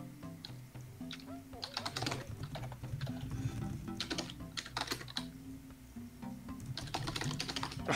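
Rapid clattering keystrokes on a computer keyboard come in irregular bursts during a skribbl.io drawing-and-guessing game session, close and fairly quiet, with voices chatting in the background.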